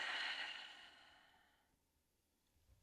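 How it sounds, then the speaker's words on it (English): A single slow exhale through the mouth during a calming lower-body yoga stretch, a soft airy breath that starts fuller and gently fades to near silence, heard alone. "And exhale out the mouth."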